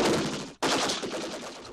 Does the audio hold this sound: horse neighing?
no